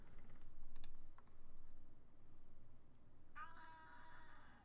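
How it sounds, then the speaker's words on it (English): A cat meows indoors, one drawn-out meow near the end that comes in suddenly, following faint keyboard typing and clicks over a low steady background hum. "What's up, cat?"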